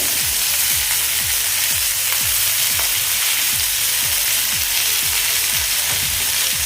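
Bangda mackerel fish fries in hot oil in a pan. A dense, continuous sizzle is close and loud, punctuated by regular soft low thuds as the fish and pan are handled.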